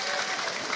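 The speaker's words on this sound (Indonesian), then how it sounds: "Tepuk tangan dulu dong buat sound sistemnya." An audience at an Indonesian Islamic lecture event gives a brief, soft burst of steady clapping, heard alone.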